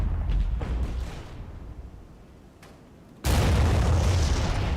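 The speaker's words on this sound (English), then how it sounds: "Here we go, incoming missile." An incoming missile strikes in a modern NATO-versus-Soviet wargame: after a quiet rumbling stretch, a sudden loud, broad explosion bursts in and keeps roaring to the end.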